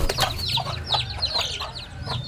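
Backyard chickens at a breeding pen cluck in quick, overlapping bursts, close and steady, with a busy flock chatter filling the short stretch.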